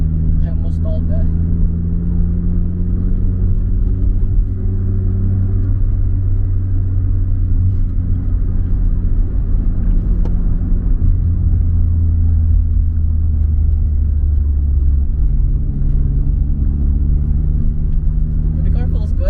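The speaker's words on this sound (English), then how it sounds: "Engine feels nice, responsive, and I'm really looking forward to." A newly bought car's engine rumbles steadily from inside the cabin as it drives and pulls through gears, with rising and falling tones of acceleration and a driver talking over it.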